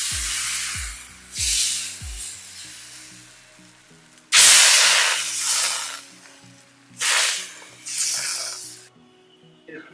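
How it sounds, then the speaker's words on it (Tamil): Rava dosa batter poured onto a hot pan hisses in several loud bursts, each surge of sizzle fading away before the next, close and with no talk. "தோசையை சுட்டு போடலாம்."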